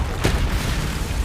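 A Bombarda spell explosion in Hogwarts Legacy, heard as a single sharp boom that bursts near the start and then fades into low, rumbling game ambience.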